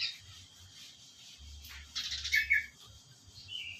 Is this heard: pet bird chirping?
yes